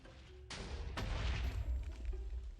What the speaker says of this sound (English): the TNT is still going off